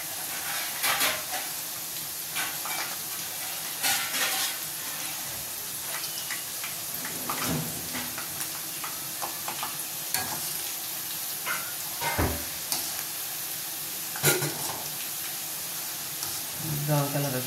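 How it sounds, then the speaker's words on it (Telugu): Okra fries in a pan until brown, a continuous crackling sizzle with frequent spatula scrapes and knocks against the metal, close by, and a faint voice briefly underneath. "బ్రౌన్ కలర్ వచ్చేదాకా వేయించుకున్నామండి."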